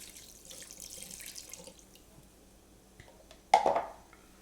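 Bourbon poured into a pan of rib sauce ingredients, a short liquid splash and trickle arriving suddenly after near silence, fairly close and brief, fading within a second.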